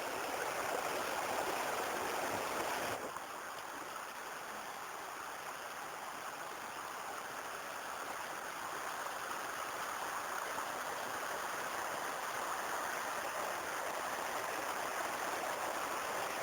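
The Belička river flows steadily at its mouth, a constant broadband rush of moving water heard close and even throughout, with no voices.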